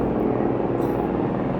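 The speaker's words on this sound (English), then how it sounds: "There's the military planes." Military aircraft passing overhead, a steady loud engine roar with a low droning rumble filling the air throughout, with no voices.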